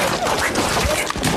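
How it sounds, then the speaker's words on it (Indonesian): Dense volley of gunfire from dozens of shooters in a samurai film battle, a loud continuous crackling barrage of overlapping shots with no pauses, close and intense throughout. "Puluhan orang langsung menembaki Kenshin."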